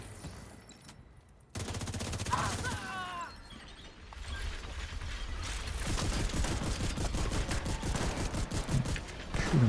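Rapid video game gunfire from a long wave-based mission, bursts of automatic shots rattling loud and steady through most of the stretch, with mechanical clicks and a voice talking over it.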